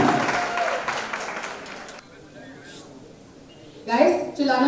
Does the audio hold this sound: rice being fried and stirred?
no